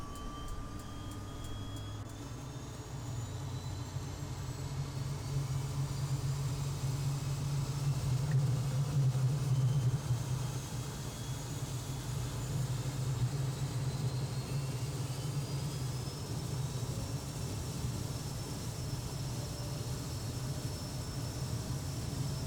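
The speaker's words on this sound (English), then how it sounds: "we're going to start the plane up." A low aircraft engine rumble in the flight simulator Prepar3D, a Carenado C208B Grand Caravan starting up, builds and holds steady for the whole stretch, with faint whining tones rising above it; no talking.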